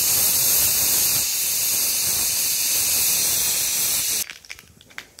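Mustard seeds splutter in hot oil for tempering a Kerala sadya dish, a loud, steady sizzling hiss that cuts off abruptly and leaves a few faint pops.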